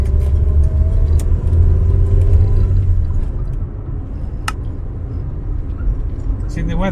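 An Austin Allegro drives along with a steady low engine rumble that is louder at first and then settles to a softer, even drone, with faint clicks and road noise on top.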